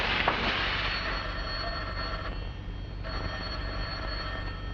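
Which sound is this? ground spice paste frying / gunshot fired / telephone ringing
telephone ringing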